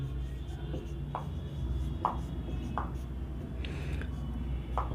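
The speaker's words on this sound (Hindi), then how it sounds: "अब यहां पर पहले मैं लिखता हूं दोस्तों चेहरे के" Chalk or marker tapping and stroking on a board in a psychology lesson about emotions, with a few short, separate strokes spaced out over low room hum, close by and fairly faint.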